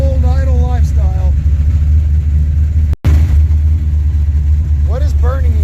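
An old project car engine idles cold, a steady low rumble running loud throughout with a brief dropout midway, while a few high chirping bird calls sound over it.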